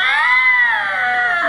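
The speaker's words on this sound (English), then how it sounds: "Bobcat." Recorded bobcat call: one loud, drawn-out, yowling caterwaul with a strained, cat-like wail that holds steady for over a second, close and alone with no talking.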